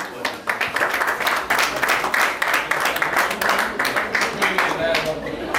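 Guests at a wedding celebration in a café clap steadily, giving dense, continuous applause that is close and loud and lasts the whole stretch.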